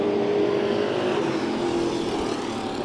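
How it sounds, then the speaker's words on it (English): Sport mod race cars roar steadily during a heat race at Bakersfield Speedway, a loud continuous engine drone from the dirt oval with no talking over it. "Checkered flag will fly for the 26 of Steven Johnson."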